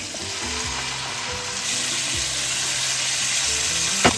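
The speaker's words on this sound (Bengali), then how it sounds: "হ্যাঁ, আমার পেঁয়াজটা প্রায় ভাজা হয়ে গেছে।" Onions frying in a pan as a brinjal dish is cooked, a dense continuous sizzle that grows slightly louder partway through, with a few soft scrapes, close and steady, no speech.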